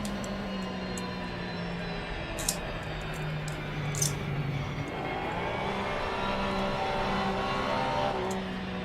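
A German race car engine in a sim racing series at Watkins Glen hums and revs steadily, its pitch rising and falling with sharp mechanical whines, loud and close throughout.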